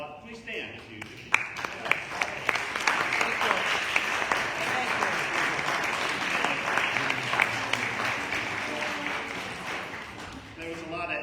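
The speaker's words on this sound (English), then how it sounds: "So let's give them a clap." A church congregation applauds at a worship service, steady mixed clapping from many hands in a large room, lasting throughout with a few sharper claps standing out near the mic.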